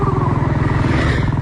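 A motorcycle engine putters loud and close at a steady, rapid beat as the rider picks up speed.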